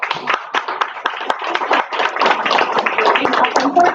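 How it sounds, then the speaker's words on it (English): A room of people at a student club meeting claps for a guest speaker, a brisk, close burst of overlapping handclaps that holds steady for a few seconds, with voices mixed in. "Give her a round of applause."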